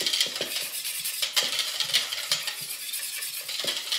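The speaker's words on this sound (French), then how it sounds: "on vient verser une partie de ce lait dans notre mélange poudre à crème et œuf" A whisk or spoon stirs milk into a custard powder and egg mixture in a bowl, with steady close scraping and clinking strokes in an irregular rhythm.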